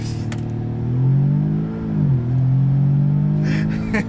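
A 2020 Audi S3 under launch-control acceleration, its engine droning steadily and rising in pitch, dipping briefly as it shifts, then pulling again, heard from inside the car with faint rustling.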